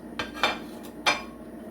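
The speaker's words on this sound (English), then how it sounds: "So let me give that a good mix." A spoon clinks against a bowl a few times, mixing sugar and grated ginger into a sweet potato pudding batter.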